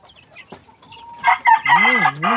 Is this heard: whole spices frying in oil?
no